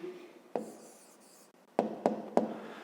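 A pen writing an answer by hand on paper, a soft scratch followed after a pause by three quick, close taps and strokes, with no talk.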